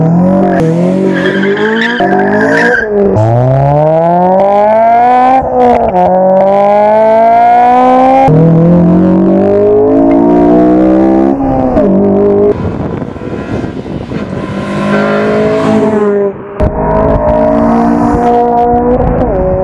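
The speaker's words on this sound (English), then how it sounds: "But if you want to know how VTEC sounds, turn up your volume." Honda Civic Type R with VTEC revving hard, rising engine pitch climbing through gears in repeated sweeps, loud and sustained with tyre squeal and no talk over it.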